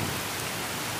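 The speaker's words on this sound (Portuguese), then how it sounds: "Faz chuvão assim forte é." Heavy rain pours steadily onto a cornfield with sprouting maize, a dense, unbroken hiss of drops that stays loud and even throughout with no voices.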